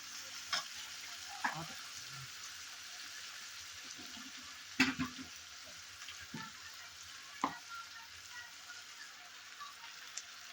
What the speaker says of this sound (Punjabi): ਬਹੁਤ ਵਧੀਆ ਤੜਕਾ ਤਿਆਰ ਹੋ ਰਿਹਾ ਹੈ ਜਿਸ ਦੇ ਵਿੱਚ ਅਦਰਕ ਪਿਆਜ਼ ਟਮਾਟਰ ਔਰ ਹਰੀ ਧਨੀਆ ਦਾ ਮਿਕਸਚਰ ਹੁਣ ਤਿਆਰ ਹੋ ਚੁੱਕਾ ਹੈ